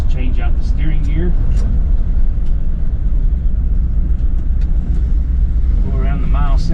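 A 1972 Ford F-350 Crew Cab truck drives along, its steady engine and road noise loud and continuous throughout, with someone talking over it in places.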